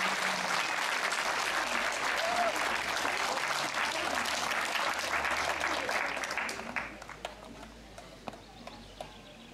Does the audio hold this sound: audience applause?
yes